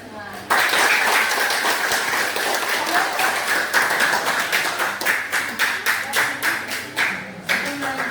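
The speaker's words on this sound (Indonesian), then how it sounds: "tepuk tangan untuk kita semua" Participants at a coding and artificial intelligence training session burst into applause after a brief quiet moment, the clapping loud at first and then thinning into separate, rhythmic claps toward the end.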